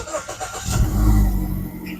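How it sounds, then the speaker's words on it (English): A Mazda Demio 1500cc petrol car started by push button: a brief starter crank rises into a loud, close engine catch and settles into a steady low idle hum. "Let me just switch on the car. It's a push to start."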